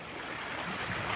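Sea waves washing at the shore, a brief broadband surf rush swelling slightly louder toward the end, with no voices.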